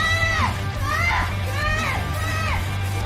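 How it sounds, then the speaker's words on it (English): A crowd at an Overwatch 2 esports tournament cheers and whoops loudly, with rising and falling shouts blending into a dense, continuous roar. "now let's hear the crowd cheer first."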